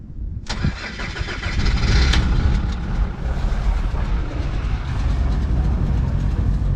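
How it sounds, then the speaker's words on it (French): A vehicle engine cold-starts in winter with a sharp crank, then settles into a loud, rough, steady idle close by, with no talk over it. "Démarrage à froid, hiver."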